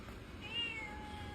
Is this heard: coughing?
no